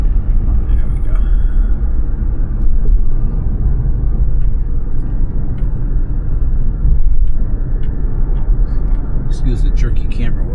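A car driving along a beach town road, its steady engine and tyre rumble loud and continuous from inside the vehicle, with a few faint higher rattles near the end.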